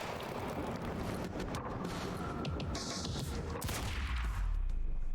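Gunfire in the Quantum Break video game: a dense, continuous burst of shots and crashing impacts, loud and sustained, ending in a heavier low rumble.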